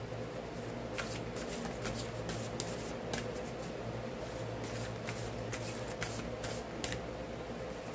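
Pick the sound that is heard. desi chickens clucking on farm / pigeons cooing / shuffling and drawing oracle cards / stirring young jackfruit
shuffling and drawing oracle cards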